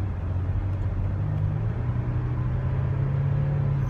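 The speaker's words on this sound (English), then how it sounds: "The third gear shift took place" A Toyota Sienna with a failing transmission shifts into third gear while the engine holds a steady, loud rumbling drone that rises slightly in pitch partway through, with no clear gear engagement.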